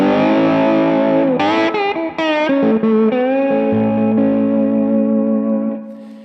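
An electric slide guitar in open E tuning rings out a full chord with effects and distortion, notes gliding and sustaining, then fading at the end; no talking.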